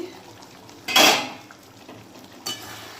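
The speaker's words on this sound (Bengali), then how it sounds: "ঢাকনাটা এবার খুলে দেখি।" A metal pan lid lifted off pomfret fish cooking in mustard-poppy paste, one clear clatter followed by a softer clink, with faint kitchen background.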